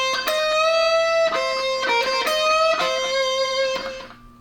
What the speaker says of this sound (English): Now a full half step bend would sound like this.